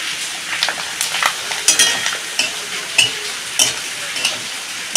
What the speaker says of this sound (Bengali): দেখো আমি পাঁপড়গুলো ভেজে নিয়েছি। ভেজে নিচ্ছি।